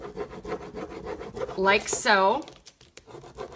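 A plastic applicator stick rubs over a rose transfer, producing scratchy rubbing strokes and a brief squeaky scrape, heard close while a person speaks a few words.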